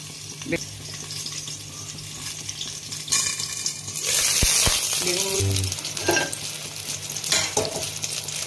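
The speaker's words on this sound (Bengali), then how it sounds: "বেগুনগুলো ভাজা হয়ে গেছে" Eggplant pieces fry in hot oil in a pan, crackling and sizzling up close while a utensil clatters and stirs, with a louder surge of sizzle partway through.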